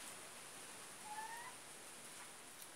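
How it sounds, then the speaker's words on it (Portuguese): A domestic cat gives a single faint, brief meow partway through, heard from a short distance against a steady background hiss in a house. "A gata miando ali."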